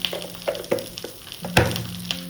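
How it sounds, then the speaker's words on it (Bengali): Nigella seeds and green chilli sizzling in hot oil in a kadai, a steady crackling hiss broken by a few sharp pops, close and fairly loud. "ওই কড়াইতেই একটু তেল দিয়ে নিয়েছি এবার এই কালো জিরে কাঁচা লঙ্কা ফোড়ন দিয়ে দিলাম"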